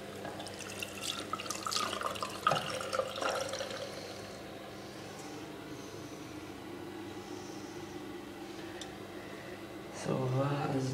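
Hands splash and stir in cold water with ice, making soft sloshing and dripping sounds at the start and again at the end, with a quieter watery hush in between.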